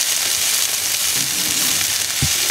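Onions sweating in a hot pan, a steady loud sizzle and hiss throughout, with a couple of short knocks of a utensil against the pan.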